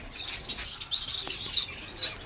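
Three newly hatched finch chicks chirping in a nest basket. Faint, thin high peeps come in a few short bursts against a quiet background.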